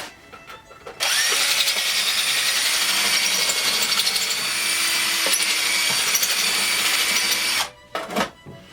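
A power tool expands a hole in a greave, whirring loudly and continuously for several seconds before stopping, followed by a few short clicks and handling noises.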